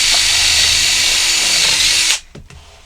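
A power drill with a dulling bit whines loudly and steadily while boring through 3D-printed plastic for a Nintendo Switch arcade cabinet, then cuts off abruptly, leaving a few faint clicks and knocks.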